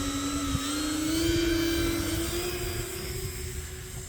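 A twin-engine RC model airplane, the Twin Timber, takes off with a steady, loud propeller-engine drone that rises in pitch as it accelerates and holds a sustained whine throughout, heard close by without talk.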